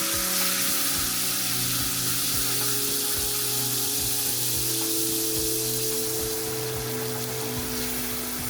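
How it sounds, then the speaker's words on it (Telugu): Tamarind frying in a hot oil tempering for pulihora, giving a loud, constant hissing sizzle close up, with a few soft stirring knocks and a steady tonal hum underneath. "పోపులోకి చింతపండు యాడ్ అవుతోంది."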